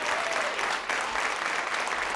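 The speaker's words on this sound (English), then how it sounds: "How about a round of applause for our speaker today?" An audience at a National Press Club luncheon claps for the speaker, dense and sustained applause from a full room, loud and close throughout.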